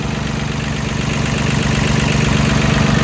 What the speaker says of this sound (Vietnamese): tiếng máy nổ thì rất là êm